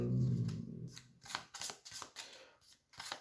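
Tarot cards being shuffled for a reading, a series of crisp riffling bursts in an uneven rhythm, close and fairly quiet, with no talk.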